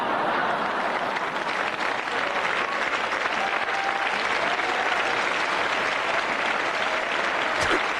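An audience applauding, dense sustained clapping from many hands that stays loud and even for the whole stretch.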